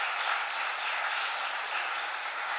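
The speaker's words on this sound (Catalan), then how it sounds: "un fort aplaudiment a Toni" Crowd at a Compromís presentation event in Pego applauding the guitarist Toni, producing a dense, continuous wash of clapping at a steady moderate level.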